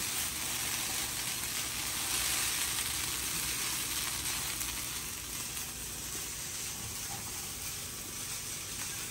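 Long beans with coconut fry in a frying pan with very little oil over medium-low heat, giving a faint, steady, continuous sizzle with no voices.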